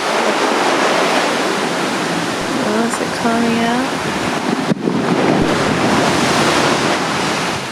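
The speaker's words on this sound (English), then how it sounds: "Wow, the waves are magnificent here." Sea waves wash loudly onto the shore near Whitby, a continuous broad roar mixed with wind buffeting the microphone, while a person speaks briefly over it.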